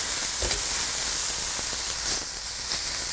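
Marinated meat for Vietnamese bun cha frying in a pan, giving a constant close hiss and sizzle with a few soft pops and stirring knocks, heard alone.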